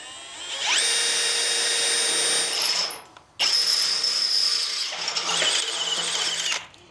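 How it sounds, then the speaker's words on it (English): A high-pitched power drill whines steadily through two long bursts into wood with hyperstep drill bits, pausing briefly between them, loud and close with no talking. "He says his drill bits will work like butter, so he's not going to pre-drill it."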